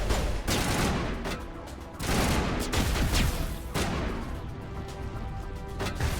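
Rapid bursts of video game gunfire crackle nearly nonstop, dense overlapping shots and explosive booms forming a loud, chaotic battle din with brief dips between volleys, no talking.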